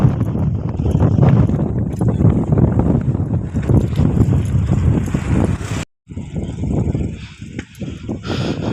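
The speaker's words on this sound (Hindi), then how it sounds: "हवा जो चल रहा है ना एकदम ठंडा ठंडा" Cold wind blows hard across a microphone on a bridge, a loud continuous rumbling gust that drops out briefly near the end and then returns.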